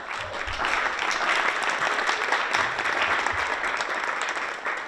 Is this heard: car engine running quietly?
no